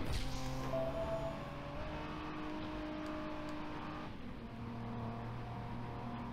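A car engine in the Driver San Francisco driving game revs hard and holds a steady, buzzing high-rpm drone while weaving through traffic, easing slightly partway through.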